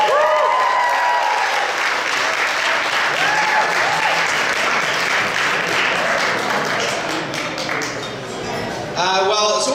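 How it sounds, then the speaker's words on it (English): A gala dinner audience applauds a speaker being introduced, with full, steady clapping from a roomful of guests that tapers slightly near the end, where a voice briefly rises over it. "give a big round of applause for Mr. Raymond Young."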